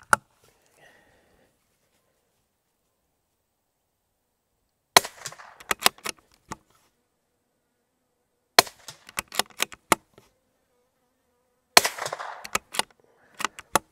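Rifle shots fired outdoors over a Labradar radar chronograph: several sharp, loud cracks in three separate bursts with quiet gaps between, each shot followed by brief echoes and rattles.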